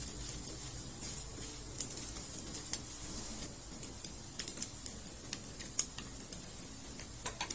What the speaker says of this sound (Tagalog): maglalagay na tayo dito ng bawang at ng sibuyas. Igisa lang natin yan for at least 2 minutes.